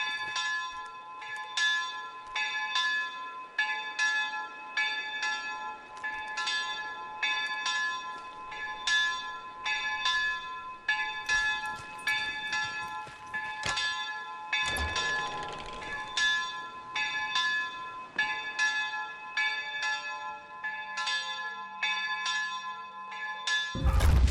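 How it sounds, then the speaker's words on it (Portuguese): Church bells in a video game ring repeatedly in a steady, rhythmic peal, clear and resonant, with a brief burst of noise partway through and a thud at the end. "Ao fundo a gente escuta o que parece ser som de sinos."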